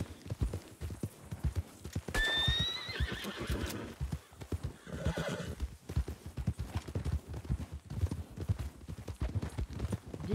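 Horse hooves clip-clop steadily throughout in a Red Dead roleplay game, with a loud, near whinny breaking in early on, over a busy in-game background.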